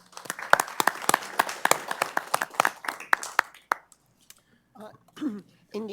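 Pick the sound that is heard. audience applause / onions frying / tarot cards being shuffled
audience applause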